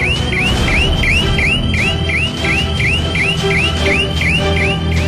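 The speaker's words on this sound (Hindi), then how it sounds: "फौरन अलार्म बज उठता है" An electronic security alarm in an animated border-security scene wails in rapid repeating sweeping whoops, about two per second, loud and continuous with no voices.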